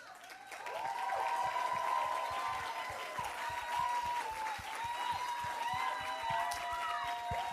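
Sustained audience applause for teen contestants after an evening gown round at a pageant, dense clapping from a large crowd rising quickly and holding steady throughout, with faint voices mixed in.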